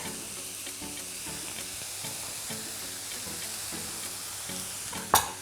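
Mushrooms and garlic sizzling in a cast iron pan, a steady soft frying hiss with rhythmic stirring scrapes, ending in a sharp metallic clank.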